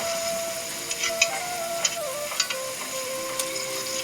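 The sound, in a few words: palm and coconut pitha frying in hot oil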